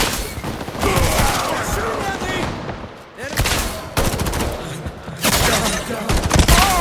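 Heavy sustained gunfire from the Concord shooter roars in dense, loud volleys, with short lulls near the middle before the shooting resumes.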